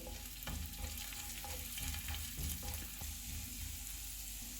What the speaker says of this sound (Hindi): ऑयल गर्म हो गया, इसमें अदरक डालेंगे, ज़ीरा और हल्दी पाउडर। इनको 30 सेकंड तक भूनेंगे।